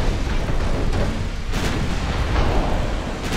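Naval guns on warships trade salvos of armor-piercing shells in Ultimate Admiral Dreadnoughts, a steady low rumble of heavy booms with a few sharper blasts standing out, loud and continuous with no voices.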